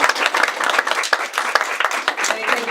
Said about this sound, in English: So another round of applause for Colleen.